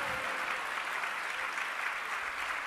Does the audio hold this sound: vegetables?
no